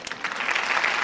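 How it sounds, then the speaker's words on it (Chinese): A studio audience at a televised dating show claps in a short burst of applause, dense and steady, with a little background murmur. "但是还是鼓鼓掌嘛"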